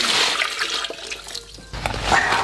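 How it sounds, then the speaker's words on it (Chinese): Water gushes into a pot of freshly picked northeastern Chinese corn indoors. The pour is loud and splashy, dips briefly partway through, then resumes strongly, with no one speaking. "加水。"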